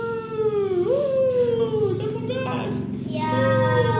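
A cat meowing in long, drawn-out, wavering cries that rise and fall in pitch. The meows are loud and close, running almost continuously with a short break midway.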